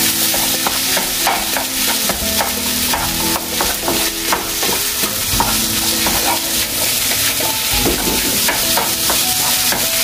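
Korean-style fried rice stirred in margarine in a hot pan: loud, continuous sizzling and frying with steady scraping and stirring strokes throughout, no talk.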